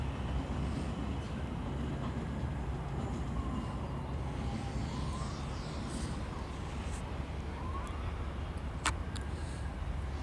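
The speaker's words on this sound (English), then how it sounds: "We've got Elizabeth Line train coming here." An Elizabeth Line train passes through Stratford, London, as a continuous low rumble and rolling wash of rail noise, heard from a distance outdoors with nobody speaking.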